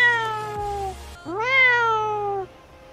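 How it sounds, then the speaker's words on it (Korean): A cat meows twice in a Euro Truck Simulator 2 multiplayer session on an Austria to Denmark route, a falling meow followed by a louder rising-then-falling call, close and clear with no talking. "고양이 왔어요."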